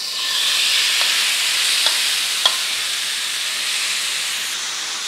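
Chicken pieces dropped into a hot pan hiss and steam in a steady, close sizzle that holds for several seconds, broken only by a few faint utensil clicks.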